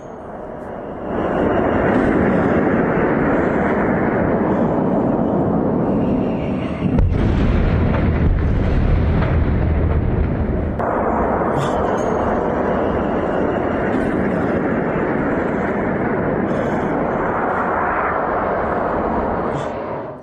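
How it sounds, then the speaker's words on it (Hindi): Israeli air defence attempting to intercept Iranian missiles sends a loud, continuous roar across the whole stretch, swelling into a heavier, deeper rumbling burst midway before settling back into the sustained roar. "एक और तस्वीर मैं आपको दिखाऊं कैसे इजराइल ने कोशिश की मिसाइलों को रोकने की"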